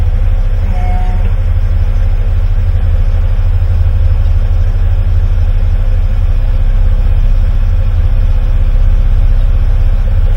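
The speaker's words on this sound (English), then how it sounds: "we start the engine" A Titan catering truck, built to service the upper deck of an A380, runs its engine with a steady, loud, low idling rumble that holds unchanged throughout, with no voices over it.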